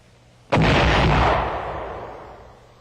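A single powerful blast from a 155 mm automatic cannon booms out suddenly, its heavy roar lingering and slowly fading over a couple of seconds.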